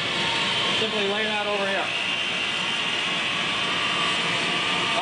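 A 3000-watt generator engine runs at a loud, constant roaring drone while someone talks over it.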